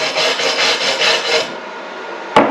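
A 110V flux core MIG welder, the 135E, lays a bead on a metal strip with a loud, steady crackling sizzle that cuts off, leaving a faint hiss and one sharp click.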